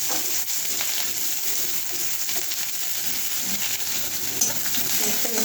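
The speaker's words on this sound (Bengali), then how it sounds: "সরষের তেল, শুকনো লঙ্কা দিয়ে দিব, এরপর একটু পেঁয়াজ দিয়ে দেব" Onion and dried red chillies fry in mustard oil, a steady close crackling sizzle with faint stirring, moderately loud and without talk.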